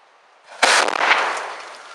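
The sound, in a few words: thermite box cutter device blowing up on steel column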